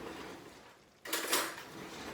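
Dishes and cutlery clatter close by in a kitchen as they are put away, a sudden burst of clinking metal and ceramic that continues for about a second after a quieter start.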